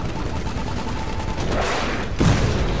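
Rapid gunfire rattles in the shooter game Titanfall as weapons fire on a Titan, bursts building into a dense fusillade with a heavy impact near the end.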